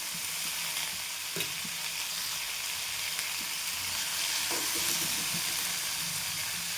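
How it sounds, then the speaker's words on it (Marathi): Cumin seeds and a tomato pan-roasting give a steady, close sizzling hiss with a few light stirring clicks and scrapes throughout, no voices. "जिरं आणि 1 टमाटर. हे छान मी भाजून घेणार."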